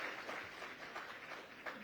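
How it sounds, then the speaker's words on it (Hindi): A crowd applauds in a continuous, faint wash of clapping for Maithili Thakur's father at a televised News18 event. "जोरदार तालियां मैथिली के पिताजी के लिए"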